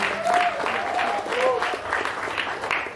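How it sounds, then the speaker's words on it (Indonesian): Crowd applause at a Bung Karno commemoration evening in Medan, steady and fairly loud throughout, with scattered cheers and voices mixed in. "Tepuk tangan untuk kita semua."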